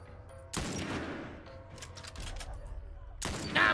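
Gunfire in The Last of Us, two loud close shots with a rumbling tail between them, heard alone without talk.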